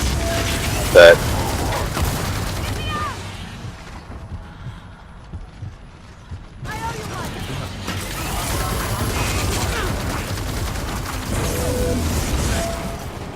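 Gunfire and clanking mechanical effects from the video game Gears of War play through most of the clip, with a loud burst near the start, a quieter lull in the middle, then sustained dense combat noise.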